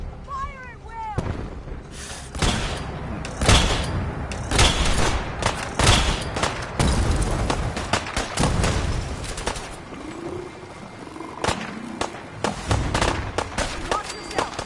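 Video game battle gunfire in Fallout 4 during a foggy attack: a long barrage of loud, booming shots, some overlapping in rapid clusters, with shouting voices between the blasts.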